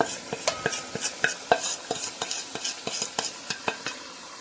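A metal spoon scrapes and knocks against a pot again and again as spices are stirred into sizzling mutton for haleem, a close, rhythmic clatter over a soft frying hiss.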